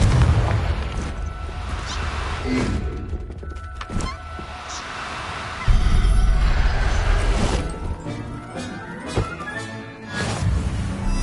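A Confringo blasting spell in the Hogwarts Legacy video game bursts with a booming explosion, followed by crashing debris and busy game effects, with several dull thuds spread across the stretch.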